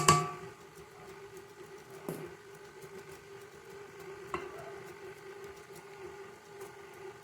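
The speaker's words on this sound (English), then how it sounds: "I'm going to turn it down to stir. I'm going to slowly add in our dry ingredients." Stand mixer running at its lowest stir speed, blending maple snickerdoodle dough with a low steady hum, a few soft knocks as dry ingredients go in, no talking.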